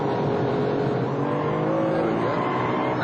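A Ferrari 575M GTC racing car's engine roars loud and close as it accelerates out of a corner, a sustained harsh drone with rising pitch that holds throughout.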